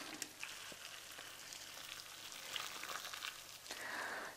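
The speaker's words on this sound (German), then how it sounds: "Gut, das Wasser kocht. Das schütte ich jetzt da drüber." Boiling water poured over pasta in a pan for a one-pot pasta dish, giving a steady, fairly quiet hissing and sizzling wash with faint splashy patter throughout, no talking.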